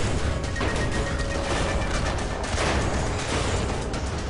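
Gunfire in the video game Deadlight, a dense, steady clatter of shots and crashing impacts, loud and continuous with no pauses across the stretch.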